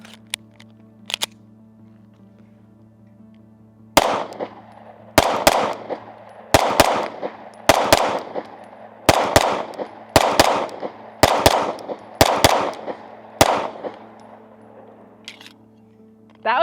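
A Jacob Grey Hex 2011 pistol firing ten loud, sharp shots at an irregular pace, with a few faint clicks beforehand and quiet gaps between reports.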